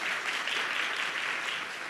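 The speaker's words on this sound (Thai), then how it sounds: "maybe we give a round of applause for our distinguished speakers on this panel please" At an academic conference, an audience applauds the panel speakers with a continuous, even wash of clapping that holds steady and moderately loud throughout.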